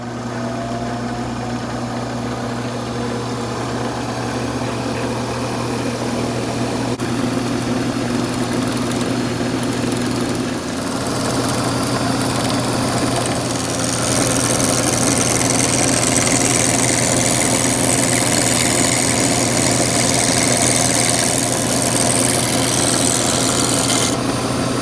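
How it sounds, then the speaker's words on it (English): Modified Craftsman wood lathe driven by a converted old treadmill motor, humming steadily with a constant whine while a tool rasps against a spinning pen blank of poison ivy wood; the cutting noise grows louder and rougher partway through, with no voices. "I converted this lathe to a variable speed with an old treadmill motor."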